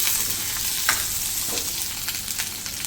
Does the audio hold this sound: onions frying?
yes